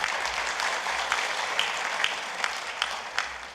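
Sustained audience applause at a Korean science and technology policy forum, greeting a vice minister as he is introduced; dense, steady clapping from a sizable crowd without a break, with no talk over it.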